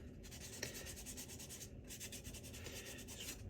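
Steady scratchy rubbing of sandpaper worked back and forth by hand across primer on wood, close and continuous, with no voices.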